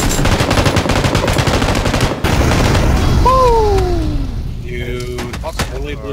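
Video game gunfire striking from outside a window in a multiplayer shooter, a loud rapid burst of automatic fire followed by descending whistling tones and scattered effects, with voices talking.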